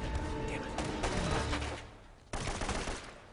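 Magnum gunfire in the video game Uncharted: loud, close shots crack in quick succession, then fall off briefly before a final sharp report.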